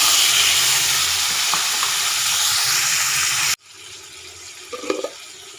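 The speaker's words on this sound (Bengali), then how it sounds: "তেল গরম হয়ে গেছে, আমি গোটা জিরে ফোড়ন দিয়ে দিচ্ছি, আর দিয়ে দিচ্ছি তেজপাতা।" Whole cumin seeds and bay leaf sizzle loudly in hot oil, a dense steady hiss for a few seconds that drops off abruptly to a quieter simmer with a brief clatter near the end.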